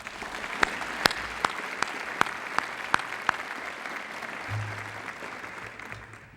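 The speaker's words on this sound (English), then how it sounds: "Please give them a round of applause." Thinning audience applause at a college state-of-the-college address, with a few distinct sharp claps standing out over a soft wash of clapping that fades away, plus a brief low hum near the end.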